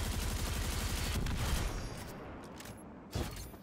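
Rapid gunfire in the Destiny video game Presage mission, a dense burst of shots that thins out into a few later reports, loud and without talking.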